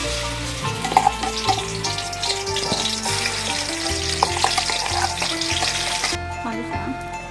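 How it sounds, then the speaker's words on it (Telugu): A paste of tomato, onion, ginger, garlic and green chilli sizzles and spits steadily in a hot kadai for boneless fish pulusu, with stirring scrapes and faint background music throughout. "టమాటా, ఆనియన్, అల్లం, వెల్లుల్లి, పచ్చిమిర్చి పేస్ట్ ఇది ఇందులో వేసేసుకోవాలి."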